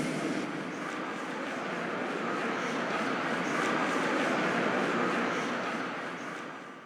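A train in the video game Shin Megami Tensei III rumbles steadily with a broad, rushing wagon noise that swells slightly toward the middle before easing off, heard alone without talk.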